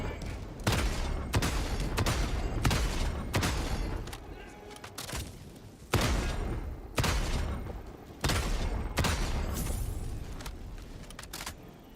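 Autocannon fire in Helldivers 2: heavy single shots repeat in spaced bursts, each a sharp loud boom with a ringing tail. Game sounds and a player's voice run between the shots.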